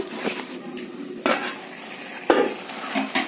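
A mixed vegetable curry of pumpkin stems, ridge gourd, potato and eggplant simmers in a pot on a gas stove, a soft sizzle running beneath three or four sharp utensil clinks against the pot.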